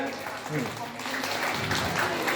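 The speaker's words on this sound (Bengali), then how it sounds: "ওদের জন্য হাততালিটা একটু বেশি হওয়া উচিত আজকে, এবং এটা উপহার দিচ্ছে, একটু হাততালি হয়ে যাক" A crowd applauds the Vivekananda Yoga Academy team at a yoga competition felicitation ceremony, with dense, steady clapping filling the whole moment.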